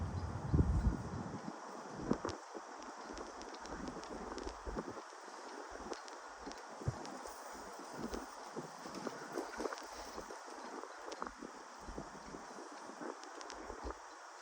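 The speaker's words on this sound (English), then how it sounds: "I guess wind just comes through. It's blowing at a southwestern direction." Wind blowing through open outdoor spaces from the southwest, a steady broad rushing with gusty buffeting against the microphone, louder at the start and continuing without pause.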